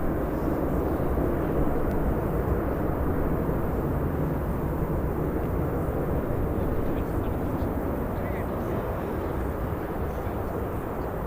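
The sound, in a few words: Ryanair aircraft after landing at Birmingham airport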